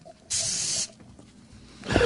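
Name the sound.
spraying the microphone with an aerosol spray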